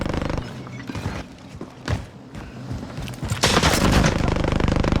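Gunfire in a battle royale shooter game, with bursts of shots and impacts as the player is hit from a distance, dense and loud toward the end, under sparse talk.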